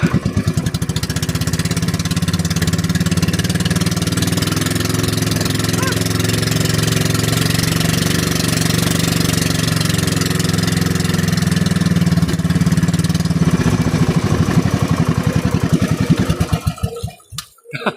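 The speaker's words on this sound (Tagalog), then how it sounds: "Patakin ko sana andar makina." A fishing boat's engine on a payaw fish-aggregating raft at sea runs with a steady, loud mid-pitched drone and rhythmic chugging that holds throughout, then cuts out abruptly near the end; no start-up burst is clearly evident.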